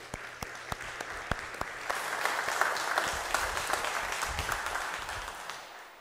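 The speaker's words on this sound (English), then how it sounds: "I also ask that you give them a round of applause with me" A church congregation applauds graduates during a Sunday service, sustained clapping with some louder, distinct individual claps standing out at the start.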